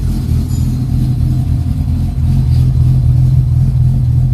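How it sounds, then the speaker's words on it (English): Car engine held at a steady rumbling idle that swells into a louder, higher rev partway through, close and continuous, with no one talking. "Can you rev it a little bit?"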